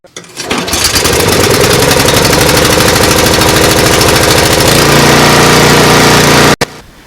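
Old Sears Craftsman snow blower engine running after a pull-cord repair, a loud, steady, rapid close-up chugging that catches quickly, holds an even idle with a slight drop partway, then cuts off abruptly near the end.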